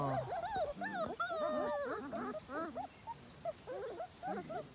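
Three-week-old Belgian Malinois puppies whimper, yip and squeal close by in a string of high, wavering cries, several overlapping at first and then thinning into scattered short whines.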